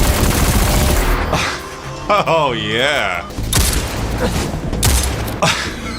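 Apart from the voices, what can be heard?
gunfire from guns in Destiny 2 video game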